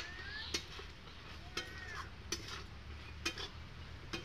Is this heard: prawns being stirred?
yes